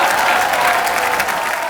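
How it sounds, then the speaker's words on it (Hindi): A studio audience breaks into applause on a Hindi comedy show, a loud, dense burst of clapping with some crowd noise mixed in, filling the short stretch evenly. "तालियां।"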